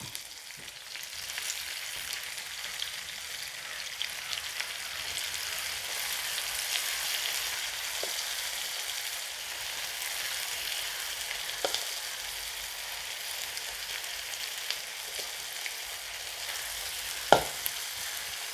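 Fish sizzling in hot oil in a pan, with shallots, curry leaves and dried red chillies, for a spiced fish fry; a steady, even crackle with a few sharper pops, close by and with no voices.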